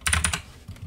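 Keys tapped on a computer keyboard during a card-game duel, a quick cluster of about four close, crisp clacks followed by a couple of softer taps.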